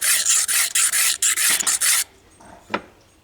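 A knife blade rubbed in quick rhythmic rasping strokes across a coarse diamond sharpening stone, close and loud for about two seconds, then a pause broken by a single light scrape.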